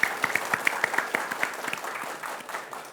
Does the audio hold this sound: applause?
yes